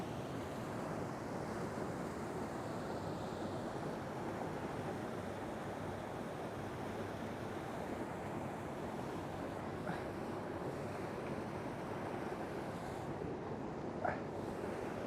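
Steady rushing water of a waterfall pouring into a pool where fish gather, a constant broadband roar filling the whole stretch without pause, close and even in level.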